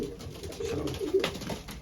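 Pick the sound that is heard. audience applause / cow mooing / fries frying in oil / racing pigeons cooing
racing pigeons cooing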